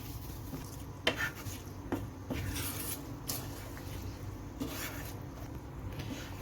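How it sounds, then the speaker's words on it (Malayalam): A spoon scrapes and clinks against a pot as tempering is stirred into an okra and tomato ozhichu curry, with a few soft, irregular knocks over a quiet background. "നമുക്കിനി നമ്മുടെ കറിയിലേക്ക് ഇത് ചേർത്ത് കൊടുക്കാം. നമുക്കിനി നന്നായിട്ടൊന്ന് ഇളക്കി കൊടുക്കാം."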